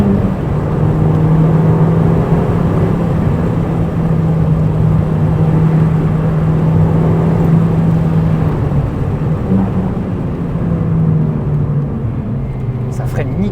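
Steady engine drone of a 2005 Audi TT Quattro Sport while driving, a constant low hum with no clear revving, heard from inside the car under someone talking.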